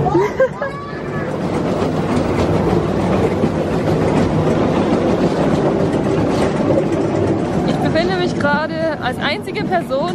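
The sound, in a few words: children's train ride at Skyline Park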